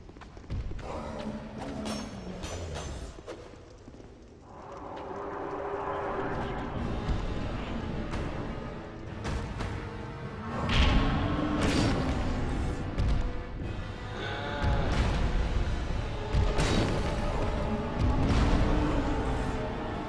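Explosions go off during a Dark Souls boss fight, a series of heavy booming thuds and crashes with rumbling impacts spread across the stretch, fairly loud within the game's sound.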